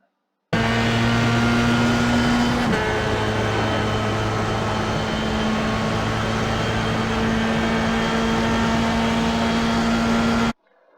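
A Formula-style F3 race car in the iRacing sim lapping Lime Rock Park, its engine droning loud and continuous with a steady tone, one brief pitch shift as it shifts gear, no talk over it.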